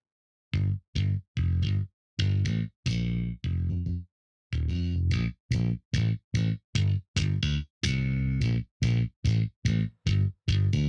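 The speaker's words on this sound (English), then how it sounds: "So you can hear that distortion coming through there." A distorted bass line with Neve desk channel emulation plays in short punchy repeated notes, gritty and saturated, with a brief gap midway and no talk.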